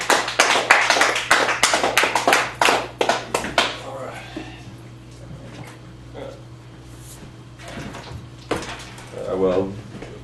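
Scattered applause from a small audience at a poetry open mic at the Cafe Gallery in Chicago, a few seconds of close, uneven clapping that thins out into quieter room noise and murmuring.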